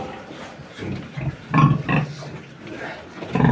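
Young sows on a farm grunt in short, close bursts, several separate grunts spaced irregularly over quiet pen ambience.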